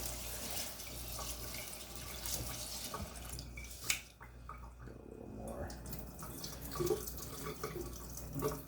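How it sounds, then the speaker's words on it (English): A sink tap runs steadily in a home kitchen while a hand is rinsed under it during fried-rice prep after washing rice, giving a close, continuous splashing stream with a few drips. "Hold on, I'm going to wash this little bit off my hand."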